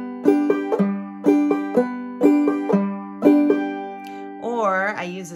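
Clawhammer banjo played in a bum-ditty strum pattern: crisp plucked notes with full-chord brushes in a steady repeating rhythm over four cycles, close and clear, ending with a brief sliding vocal-like bend.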